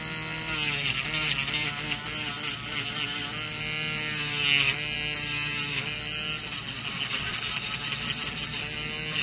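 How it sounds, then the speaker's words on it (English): A Dremel rotary tool grinds down a thick fungal toenail, a continuous close high-pitched whine with slight wavering in pitch as pressure changes, running alone throughout. "Now we'll get the Dremel."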